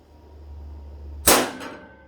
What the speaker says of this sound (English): so we need this to centre punch